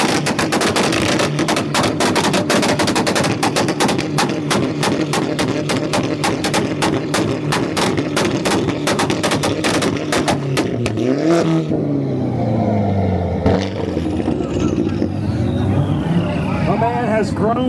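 Volkswagen on a two-step launch limiter at an import face-off rev battle, holding a loud rapid machine-gun stutter of pops and backfires for about eleven seconds before revs drop away, with crowd noise and an announcer around it.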